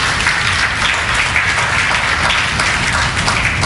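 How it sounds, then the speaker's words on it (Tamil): A church congregation applauding together, loud and continuous clapping that holds steady throughout. "கைத்தட்டிக்கு திரும்ப மகிமைப்படுத்துவோம்."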